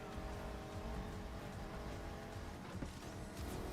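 Race car engine in Need for Speed Heat during a lap in Miami, a steady droning roar with tire noise as the car drifts, held at a constant level throughout.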